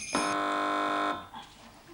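A game show buzzer on a British comedy panel quiz gives one loud, steady electronic tone lasting about a second, then cuts off sharply into a quiet room.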